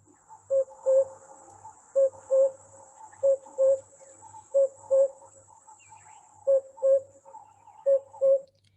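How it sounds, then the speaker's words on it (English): Recorded call of an African cuckoo, a clear two-note whistled phrase repeated about seven times at steady intervals against faint insect hiss, with no talking. "it's also got this very distinctive call, which I'm just going to play for you right now"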